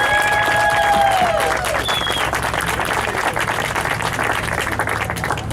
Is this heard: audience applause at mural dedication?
yes